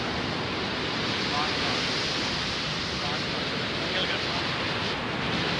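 Rushing water pouring through the gates of a river barrage headworks at Panjnad, a dense, constant roar that stays loud and steady throughout with no break.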